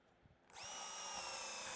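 A power drill whirs up sharply after a brief quiet moment and keeps running steadily, driving screws into wooden bookshelf pieces, close and constant without any talk.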